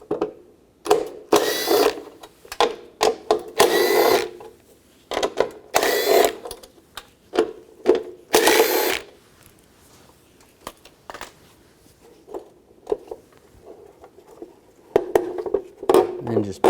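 A ratchet with a 10mm socket spins nuts off a window regulator on a 2004-08 Nissan Maxima front driver's door, giving bursts of rapid clicking and whirring between pauses, with some quieter metallic handling.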